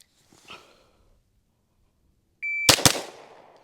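A Staccato HD P4 pistol fired twice in a fast split, two sharp loud cracks in quick succession with a ringing tail, preceded by a faint click and near silence.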